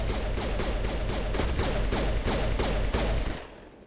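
Rapid gunfire in a BioWare video game, a loud steady string of evenly spaced shots lasting about three seconds before cutting off abruptly.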